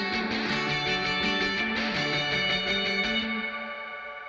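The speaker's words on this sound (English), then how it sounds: "I have a little spring reverb added for more retro wetness." Electric guitar chords ring out with a wet, splashy spring reverb tail, played alone and fading slightly at the end.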